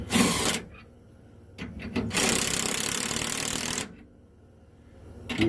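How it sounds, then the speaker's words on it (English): A hammer drill runs in bursts as it tightens a 3/4-inch bolt on a helper leaf spring: one short burst, a few quick stutters, then a long loud run of about two seconds, close up with quiet gaps between. "I'm just gonna use my hammer drill here just to get me"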